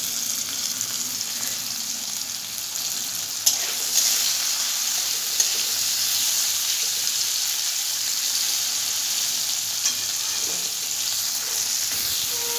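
Chopped tomato with salt frying in a pan of greens for a Bengali masoor dal and pui shak (Malabar spinach) dish, a steady close hiss of sizzling oil with a couple of faint utensil knocks, no talking.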